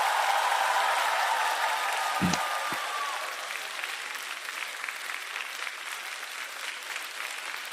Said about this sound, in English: Give a big round of applause to Fire and All with his deep side 7083.